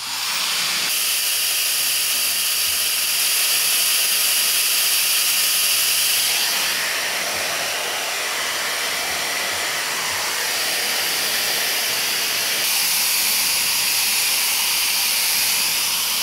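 A hair dryer blows steadily on curly hair, giving a continuous loud airy hiss that shifts in intensity a few times as the setting or angle changes, with no talking.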